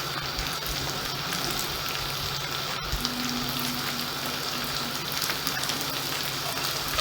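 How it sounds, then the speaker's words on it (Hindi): Cauliflower frying in a pan for a cauliflower mutton curry, a steady close sizzle and crackle throughout with a brief clatter near the middle, no talk. "2 मिनट तक फ्राई करेंगे तो गोभी तैयार हो जाएगी।"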